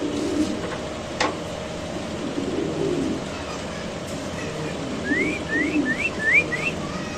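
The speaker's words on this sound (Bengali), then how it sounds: "দর্শক দেখেন কবুতরগুলো আমরা একটু ছাড়লাম" Pigeons being released cry in a short run of rising whistled calls near the end, over steady outdoor noise; no clear wing flaps stand out.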